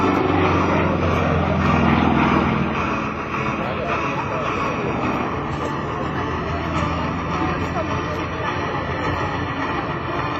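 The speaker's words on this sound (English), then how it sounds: "Showing the rolling capabilities and the power of the Pitts Model 12." Pitts Model 12 aerobatic biplane at an airshow, its propeller engine droning steadily and loudly as it flies a tight inside loop, with an announcer talking over it throughout.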